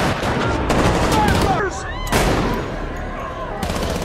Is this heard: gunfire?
yes